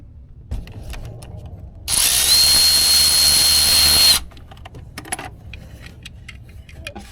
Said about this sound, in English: when we go down here, we're gonna be removing the bolt